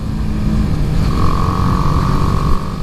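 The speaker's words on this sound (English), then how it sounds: "Riding through these corners here, you're going to go through a couple gears." A 2018 BMW G310R motorcycle rides through corners, its single-cylinder engine droning loud and close with a rising rev and a gear change midway, steady wind-buffeted engine noise throughout.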